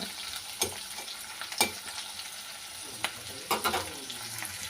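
Onions and chillies sizzle in a pan with a steady crackle, punctuated by a few sharp scrapes and taps of a spatula stirring.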